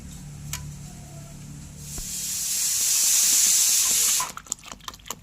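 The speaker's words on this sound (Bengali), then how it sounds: "আবারও ভালো করে জল দিয়ে ধুয়ে নেব।" Dried shrimp rinsed under running water: faint handling at first, then a steady rushing hiss of flowing water that swells and cuts off abruptly, followed by a few small clattering splashes nearby.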